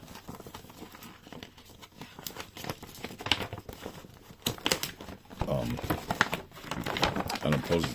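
Heavy one-sided laminated poster board packaging from a Tomica playset being creased and bent, loud crinkling and crackling in bursts, close up, with someone talking throughout.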